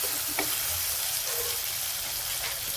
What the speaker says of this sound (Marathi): आता कांदा बरोबर टोमॅटो पण परतून घेतलेला आहे